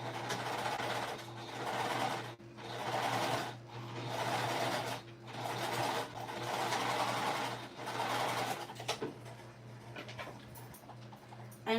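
A sewing machine runs an extra row of stitching along a shoulder bag lining in several sustained bursts of rapid, even whirring, separated by short pauses, close and steady, with no talk.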